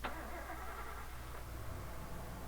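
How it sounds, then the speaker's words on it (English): A truck engine revs and pulls away in a video game, a steady low rumble held throughout at a moderate distance with no other sounds standing out. "I hear the sound of an engine revving outside."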